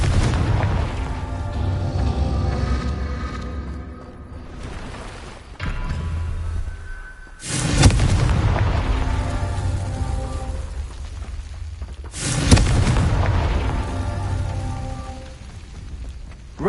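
Confringo spell blasts in a Harry Potter video game, with two heavy booming explosions several seconds apart, each trailing off into crackling debris over a steady rumbling background.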